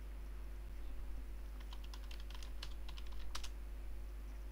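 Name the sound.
typing a command on a computer keyboard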